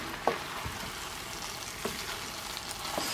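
Thick, sticky glutinous rice mixture for suman is stirred in a pan. It makes a low, steady sizzling hiss broken by a few dull scraping knocks of the spoon, heard close and without speech.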